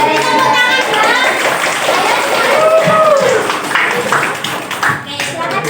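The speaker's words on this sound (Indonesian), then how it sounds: "Tepuk tangan dong." Students in a micro-teaching classroom clap for classmates who presented at the front, dense clapping mixed with overlapping chatter and voices, loud and close throughout.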